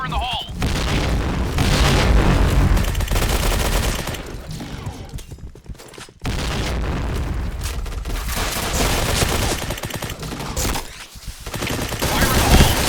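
Grenade explosions and rapid gunfire in the shooter game Point Blank, a dense run of loud booms and bursts of shots with short gaps, and voices calling out over the combat.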